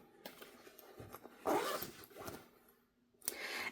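A zipper on a pocket of a planner organizer is pulled in a few quick, rasping strokes, close and fairly soft, with small handling rustles between them.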